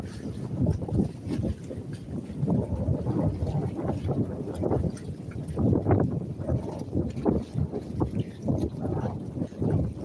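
Wind buffeting a microphone aboard a fast Thames Clipper riverboat on the River Thames in Docklands, a loud continuous roar with gusty surges and engine-like rumble, no voices.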